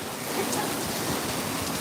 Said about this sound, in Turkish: Bereket yağıyor. Yaz yağmuru.